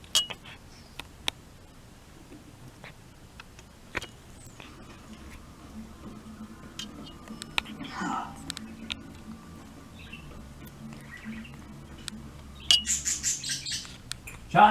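Small birds chirping sporadically in a quiet room, with a few faint isolated chirps and ticks, then a quicker, louder burst of repeated chirps near the end.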